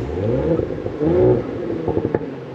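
An Audi S5 engine tuned to about 400 hp revs and rumbles close by, rising and falling in pitch with a few clattering knocks, steady and fairly loud throughout.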